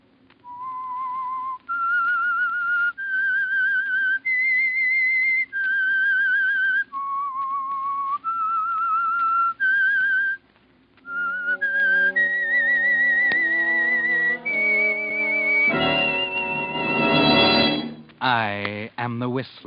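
A clear, melodic whistled tune of sustained notes, rising and falling, ending in quick sliding trills; no talking.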